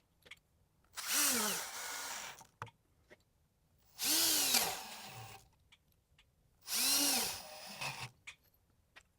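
A power drill driving 2-inch screws into a plywood cabinet, three separate bursts of rising motor whine, each a second or two long, with quiet gaps and small clicks between.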